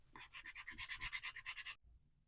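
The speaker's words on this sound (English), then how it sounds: "So we're speed sanding here just to try and get the clay a little bit more smooth and on the wood a little bit better." Clay on a wooden bunny figure is sanded with quick back-and-forth strokes, giving about a dozen rhythmic rasps that stop abruptly; fairly quiet and close.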